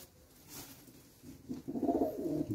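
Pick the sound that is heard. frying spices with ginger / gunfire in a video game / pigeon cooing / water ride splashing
pigeon cooing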